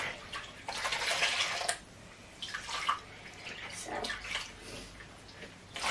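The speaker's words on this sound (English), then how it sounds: "I'm going to dip it back into the water, give it a little rinse out again" A sponge is dipped and rinsed in a bucket of water while leather horse tack is cleaned, making close, uneven sloshing and dripping splashes in short bursts.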